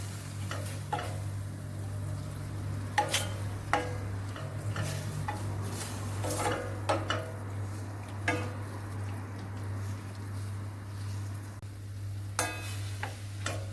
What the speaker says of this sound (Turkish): Şöyle biraz etimiz suyunu salana kadar karıştırıyoruz şöyle